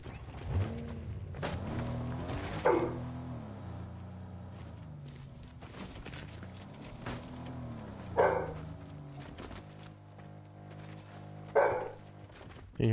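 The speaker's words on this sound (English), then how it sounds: "Can you hear my dog?" A dog barks in short separate bursts, a few seconds apart, heard faintly in the background while people talk over a Fortnite match.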